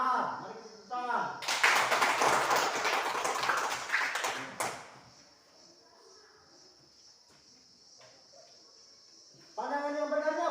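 Students in a classroom clap their hands together in a loud, dense burst that lasts a few seconds and then stops abruptly, with a teacher talking before and after it.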